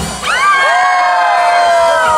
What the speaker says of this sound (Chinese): 这是蜂王家族的尖叫声哈